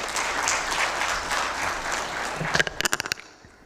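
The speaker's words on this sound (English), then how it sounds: "A round of applause, please." An audience at an aerospace and defence festival in India applauds a guest coming onto the dais, a steady full round of clapping that breaks into a few scattered last claps and then dies away.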